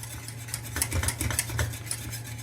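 A whisk stirs chocolate sauce mix with milk in a pot to keep it from clumping, giving quick, close, repeated scraping and light metallic clinks in an uneven rhythm.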